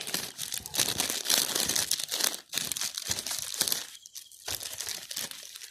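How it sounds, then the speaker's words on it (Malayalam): Plastic cover crinkles and rustles continuously up close as it is wrapped over a graft on an arecanut tree, loud and busy with brief pauses near the end. "ഒരു കവർ ഇട്ട് കൊടുക്കാം"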